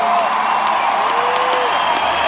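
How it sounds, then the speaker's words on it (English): At a concert in Mizzou Arena, a large crowd applauds and cheers loudly and steadily, a dense wash of clapping with scattered whoops. "Give them all a round of applause"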